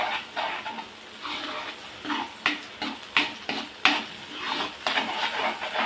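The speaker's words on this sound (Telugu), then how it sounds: "ఇప్పుడు దీన్ని మంచిగా ఆయిల్ బయటికి వచ్చేదాకా మంచిగా వేయించుకోవాలి" Egg masala curry being fried and stirred in oil in a pan, with repeated scraping and clinking of a spoon against the metal pan in uneven strokes over a soft, steady sizzle, close and moderately loud, with no talking.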